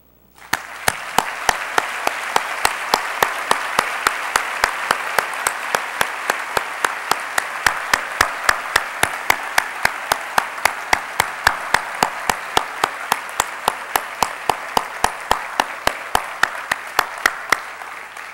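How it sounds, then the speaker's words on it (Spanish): Sustained applause from a graduation ceremony audience, a steady dense wash of many hands clapping with sharp individual claps standing out, continuing loud and even for the whole stretch. "quiero pedir a todos los asistentes que me ayuden a realizar este reconocimiento en la forma de un cariñoso aplauso"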